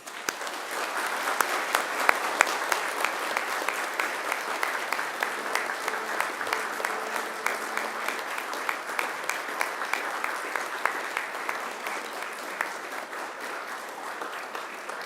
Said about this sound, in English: And now it's time to give them a mighty round of applause.